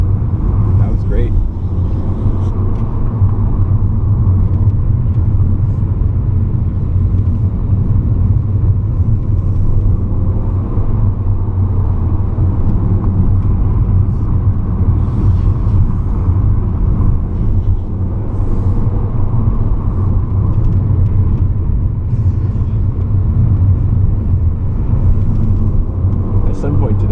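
An Audi A3 e-tron car drives laps on the Thunderhill race track, giving a steady low rumble of road and tire noise heard from inside the cabin, with faint occupant chatter in the background.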